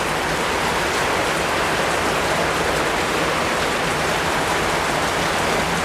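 Steady rain pours on a rainy day in a Bengal village, a dense, even hiss that continues unbroken with no voices.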